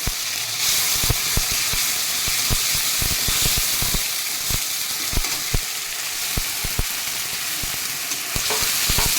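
Masala of bay leaves, tomato and spices frying in a pan for a bhetki fish head kalia, a loud, close, continuous sizzle punctuated by many sharp spattering pops and stirring scrapes, no voices.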